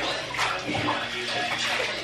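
Water splashes and sloshes in a bathtub as a child is bathed, close and fairly steady, with faint voices in the background.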